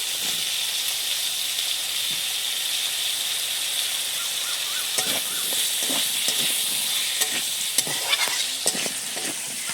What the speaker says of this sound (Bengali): ছোটো ছোটো করে আলুগুলো দিয়ে দিচ্ছি বেশ সুন্দর করে কষে নেবো মশলার সাথে